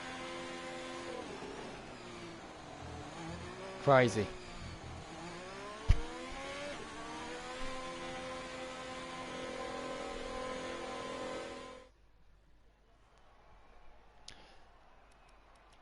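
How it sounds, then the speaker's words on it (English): A race car engine pulls out onto the track, its whine rising and falling through gear changes with sharp clicks and a brief sweep, then cutting off abruptly into near silence, with a single short spoken word. "The car's going out on the track and the checkered flag went 3 minutes ago."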